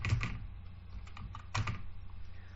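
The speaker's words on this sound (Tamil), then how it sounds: "இப்போ ls அப்படின்னு டைப் பண்றேன்." A computer keyboard clatters as the ls command is typed: a quick, close run of irregular key clicks with a couple of sharper strokes and no speech.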